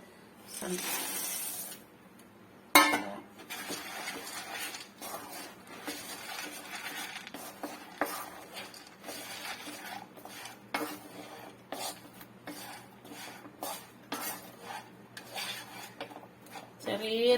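Peanut candy mixture being stirred in a pan at home, a spoon scraping and clinking steadily against the metal for the whole stretch, with an early sharp knock and no one talking.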